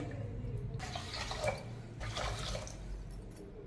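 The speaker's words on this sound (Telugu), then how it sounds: "అదే కప్ తోటి మూడు కప్పుల వాటర్ పోసుకోవాలండి" Water is poured in two short splashing bursts into a pot of rice, with quiet background hum in between.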